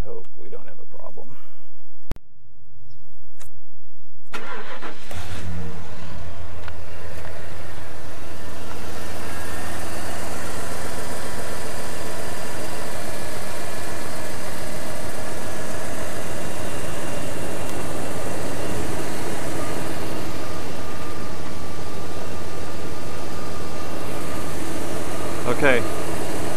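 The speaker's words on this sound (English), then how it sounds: "Let's go start this engine up." A car engine being tested for a head gasket leak cranks and catches after a few seconds of quiet, then settles into a steady, loud idle that runs on continuously, close by.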